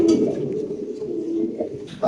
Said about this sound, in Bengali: দেখেন মাসাল্লাহ কত সুন্দর দর্শক কবুতরগুলা পুরা লাহরি কবুতর